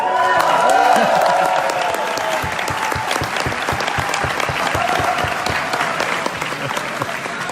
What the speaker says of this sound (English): Give me some applause for the new one